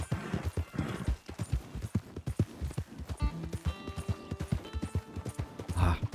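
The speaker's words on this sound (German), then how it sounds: "Ah, tolles Pferd." Horse hooves gallop in Red Dead Redemption 2, a fast, rhythmic clip-clop close by, with game sounds and brief speech layered on top.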